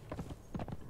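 Horse hooves walk in a steady clip-clop in the video game Conan Exiles, two quick pairs of close hoof strikes within a second, with no talking.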